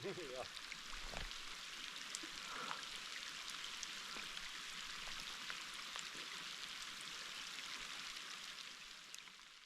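Steady patter of rain on a tent, a dense continuous hiss of drops, fairly faint and even throughout with no talking.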